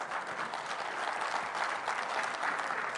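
Warm, sustained applause from an audience at a panel event, a dense steady patter of many hands clapping close and loud throughout, with no voices on top.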